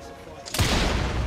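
A single loud gunshot-like blast from the video game Assassin's Creed Syndicate erupts after a short quiet lead-in, followed by a dense rumbling wash, with a voice audible in the background.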